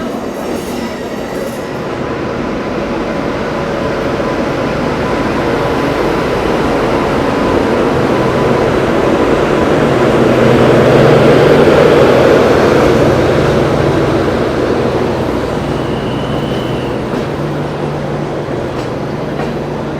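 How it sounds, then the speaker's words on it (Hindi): The 12301 Howrah–New Delhi Rajdhani Express, hauled by a WAP-7 electric locomotive, rolls into a station with a loud, continuous rumble of wheels and coaches that swells toward the middle and eases slightly, with a faint squeal later on. "यहाँ पर अराइव होती हुई 12301 हावड़ा न्यू दिल्ली राजधानी एक्सप्रेस वेब 7 लोकोमोटिव के साथ भाई।"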